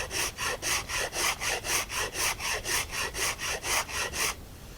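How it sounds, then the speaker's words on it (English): A Shinto rasp files wood from the top of a non-returning boomerang in about fourteen even, rhythmic rasping strokes, close and clear, ending in quiet. "we'll file a bunch of mass off of the top like that"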